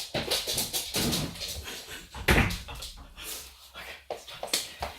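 A dog moving and whimpering indoors, with short yips and scuffling close by, mixed with bursts of household noise and a door; a person's voice is faintly present.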